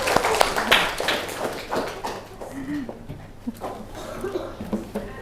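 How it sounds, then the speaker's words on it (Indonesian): A class of pupils claps for everyone in the room, uneven bursts of close handclaps that thin out over a few seconds, with children's voices chattering around them. "Oke, boleh tepuk tangan buat semuanya"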